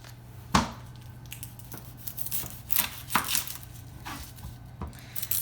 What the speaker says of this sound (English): the first thing we're going to do is chop